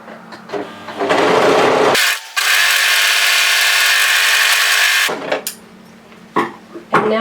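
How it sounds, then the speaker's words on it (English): A serger overlocks the back hem of a tailored vest, a loud, fast whirring stitch that runs steadily for about three seconds, framed by shorter bursts and handling clicks before and after, up close with no talk. "So lastly, come to the back hem area and serge tidy this hem."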